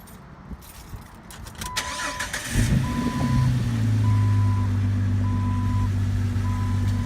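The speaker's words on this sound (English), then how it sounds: "At this point, we're going to want to go ahead and start the vehicle." A car engine cranks and catches after some clicks and rustling, then settles into a steady close idle hum while a repeating electronic chime beeps at even intervals over it.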